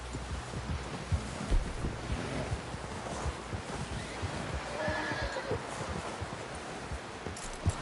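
A horse whinnies in Red Dead Redemption 2, faint and far off under a steady roar of wind and surf-like noise, with a low rumble running throughout.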